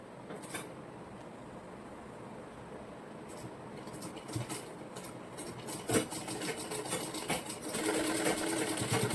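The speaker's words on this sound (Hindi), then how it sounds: "इलास्टिक को कवर करते हुए आप सिलाई लगाते जाइएगा।" Sewing machine stitching steadily over elastic along the hem of a pair of ladies' fitted designer pants, a continuous close mechanical whir with rhythmic needle clatter throughout.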